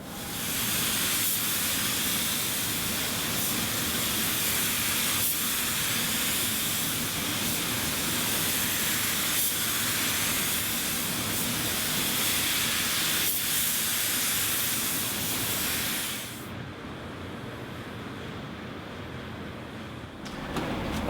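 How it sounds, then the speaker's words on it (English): A spray gun lays clear coat on a car panel in a booth, a loud continuous hiss with faint rhythmic pulses between passes, close up, dropping away near the end to a quieter hum. "Let's get the clear coat on and then we'll put the job outside and take a look at it."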